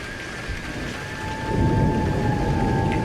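Heavy rain pours steadily and grows louder partway through, with a low rumble of thunder underneath and a faint tonal hum.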